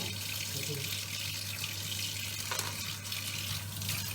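A kitchen tap runs steadily throughout, a continuous broadband wash of water with a low mains hum beneath, and voices talk faintly in the background.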